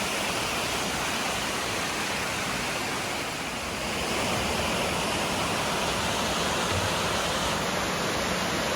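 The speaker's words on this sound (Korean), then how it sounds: "용선폭포입니다." Yongseon Falls in Seoraksan's Gugokdam valley pours down with an unbroken, even roar of rushing water, steady and fairly close, with no voices.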